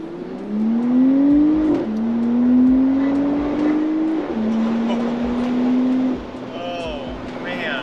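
A 2024 Porsche Cayenne Coupe accelerating hard from inside the cabin, engine revs climbing steadily through three upshifts with brief dips between gears, loud and close, with a voice speaking faintly near the end.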